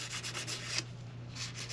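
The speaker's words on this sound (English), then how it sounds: "So then all you do is just start sanding." Sandpaper rubbed over a small painted piece of a backpack, rhythmic close scratchy strokes repeating about every fifth of a second over a low steady hum, pausing briefly midway.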